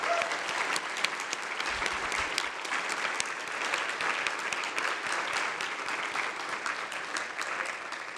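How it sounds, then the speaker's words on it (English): An audience at an annual meeting applauds, a sustained crowd clapping of even density that continues throughout without pause. "I hope all of you will join me in giving Zach a round of applause"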